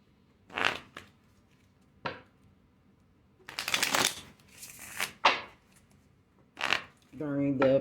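Tarot cards being shuffled in several quick riffling bursts separated by short pauses, close and crisp, ending with a brief voice.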